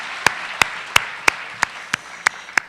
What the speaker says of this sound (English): can we have a big round of applause for the David W.